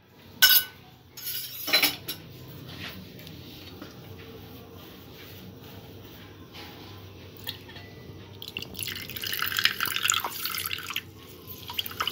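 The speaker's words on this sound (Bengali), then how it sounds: "নারকেলের দুধটা ছেঁকে নেব।" Coconut milk strained and dripping: a few sharp splashes and drips early on, then soft trickling and faint clinks that grow busier toward the end, with no voice.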